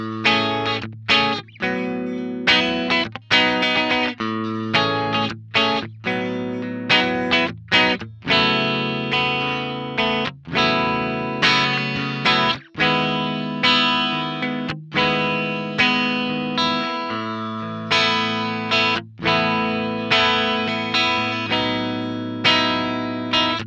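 Clean electric guitar through a Mooer ShimVerb ambience reverb pedal placed after a Velotone Dapper M preamp set to a Fender Twin Reverb clean simulation, playing strummed chords and notes with a lush, washy tail, continuous and loud with no talk.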